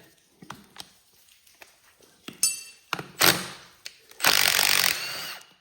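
Bolts holding the hydrostat on a Cub Cadet 1782 Super Diesel tractor are removed with a wrench. Scattered metallic clicks and ratcheting come from close by, followed by a few louder bursts of clattering and grinding. Nobody speaks.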